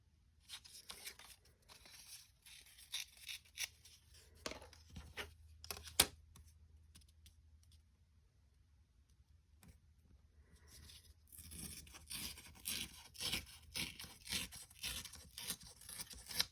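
Tearing a scrap of Graphic 45 patterned paper by hand: a few slow ripping strokes with short pauses, followed by a longer, louder stretch of tearing and crinkling near the mic.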